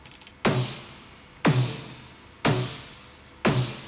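A synthesized EDM snare processed with bus effects strikes four times at an even one-second pace, each hit bright and punchy with a long, noisy, juicy tail that fades before the next; no talking.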